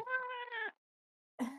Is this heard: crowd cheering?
no